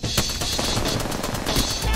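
Gunfire in the video game Apex Legends, a dense burst of rapid automatic shots crackling loudly over game noise for about two seconds without talk.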